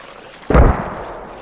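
A single close mortar explosion in the video game Squad, a sudden heavy boom with a rumbling decay, alone without talk.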